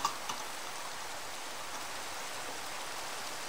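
Steady rain in Minecraft, a soft continuous hiss of falling drops at an even level, with no voices.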